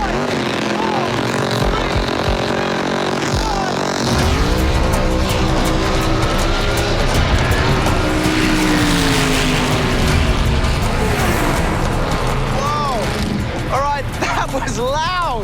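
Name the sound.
dragster burnout, engine revving loudly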